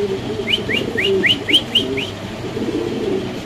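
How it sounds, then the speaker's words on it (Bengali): A top-grade black Lahori pigeon gives a run of about seven quick, rising whistled calls, evenly spaced and fairly close, over a steady low background murmur. "এটা একটা লাহোরি কবুতর ভাই, টপ লাটের লাহোরি কবুতর।"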